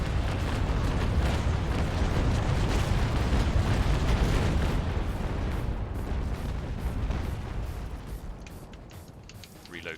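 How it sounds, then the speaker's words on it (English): Cannon broadside firing in a naval video game, a dense run of deep booming blasts rolling together for several seconds, loud and close at first and then tapering off. "I'm going to release this broadside quite early"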